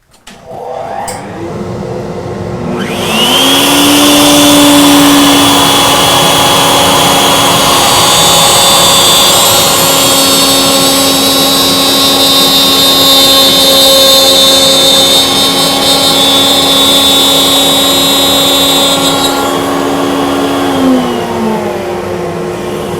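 Power saw cutting a dado into cabinet wood, a loud, steady whine that spins up, holds through a long cut of nearly twenty seconds, then winds down, with no talk.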